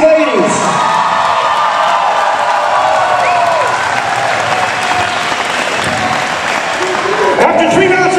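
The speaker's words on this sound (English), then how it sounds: "Round of applause for these two ladies." Loud, sustained crowd applause with cheers and whoops fills a women's boxing arena after a three-round main event bout between New Zealand's Deanne Carpenter and Argentina's Lucia Perez, steady throughout.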